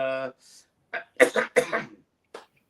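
A person clears their throat with a few short, rough bursts, close and alone, after a brief hummed note at the start.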